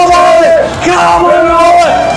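A VIP audience at a street strength-challenge event shouts and whoops together in long, loud, sustained cries that rise and fall over a couple of seconds.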